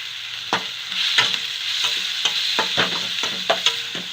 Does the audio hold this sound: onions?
yes